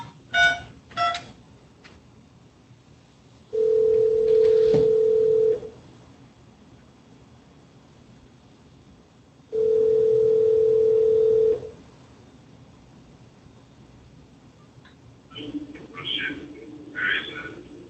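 A telephone call is placed from a district courtroom: a few short dialing beeps, then two long, steady ringback tones separated by a quiet pause, with faint rustling and indistinct sounds at the end.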